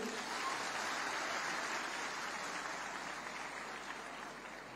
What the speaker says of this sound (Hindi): तो सबके लिए एक बार जोरदार ताली